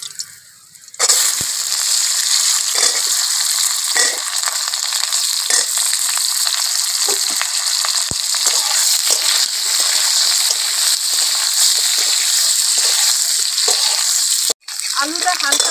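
Potatoes for a fish curry frying in a pan, a loud close sizzle that bursts in right after a second of quiet and holds steady, broken by faint clatters and one brief dropout near the end.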